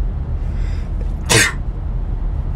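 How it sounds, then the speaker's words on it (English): A single sharp sneeze from a person who has just inhaled dust, bursting out close and loud over a steady low room hum, with quiet before and after. "I just sneezed up dust."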